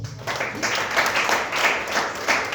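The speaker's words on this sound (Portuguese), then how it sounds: "Que as palmas louvam o Senhor." Congregation applause during an evening church service, a dense steady wash of clapping that swells in waves throughout, fairly close and continuous with no talk over it.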